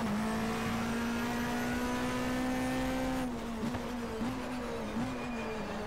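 A racing car in the 1997 BTCC touring car game drones at low revs, a steady loud engine tone that shudders and wobbles slightly toward the end as it judders, with no talk.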